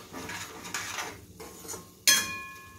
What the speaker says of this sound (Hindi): अब इसमें जाएगा ये टमाटर, इसे डालकर हम भूनेंगे।